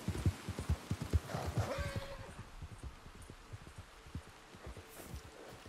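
A horse in the Red Dead Redemption 2 video game snorts and whinnies with a brief rising neigh near the start, over close rhythmic hoof clip-clops that continue throughout.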